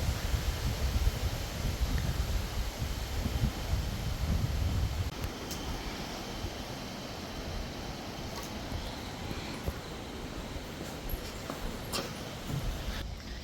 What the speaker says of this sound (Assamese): চব বতাহৰ আৱাজটো শুনক আপোনালোকে।